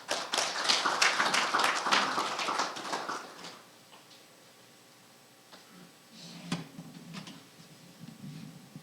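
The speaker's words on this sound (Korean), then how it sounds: "여러분 큰 박수로 장상현 박사님을 환영해 주시기 바랍니다." An audience at an education data forum applauds to welcome a speaker, with dense, close clapping for a few seconds that quickly fades into a quiet hall with only scattered small taps and shuffles.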